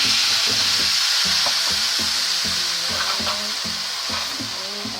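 A filling of grated coconut, sugar and a little water cooks in a pan, sizzling steadily with repeated rhythmic stirring scrapes, loud and close with no voices.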